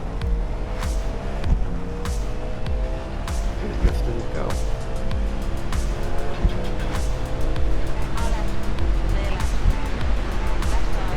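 Le Mans prototype race cars in iRacing roaring off together at the green flag after the chicane, a dense, continuous wall of layered engine tones with overlapping revving harmonics and no break.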